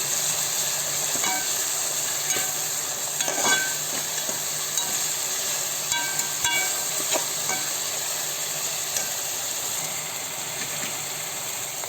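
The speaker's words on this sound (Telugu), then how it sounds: "ఇప్పుడు పుదీనా కొత్తిమీర పచ్చిమిరపకాయలు దీంట్లో వేసుకోవాలి" Mint, coriander and green chillies frying in a pot for white kushka, a steady close sizzle and hiss with occasional stirring clinks and scrapes, no talk.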